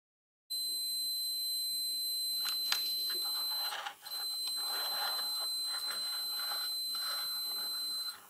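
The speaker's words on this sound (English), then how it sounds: "With the multimeter switched to continuity check, you can hear that there is no steady contact" A multimeter on continuity check beeps as its probes touch the sliding contacts of a power rail that feeds a mobile robot. The steady, high beep stutters and drops out briefly partway through, marking the unsteady contact.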